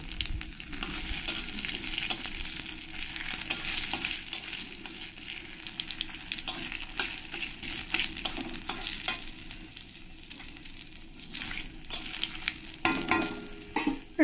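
Whole radhuni seeds and three dried red chillies sizzle steadily in hot oil, a dense continuous crackle with occasional sharper pops and a brief louder burst near the end.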